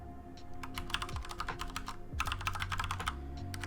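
Fingers typing on a computer keyboard, a quick irregular run of crisp clicks in two bursts with a short pause, close and fairly quiet with no talking.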